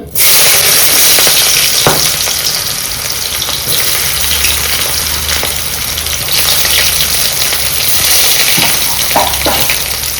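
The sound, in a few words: chopped onions frying in hot oil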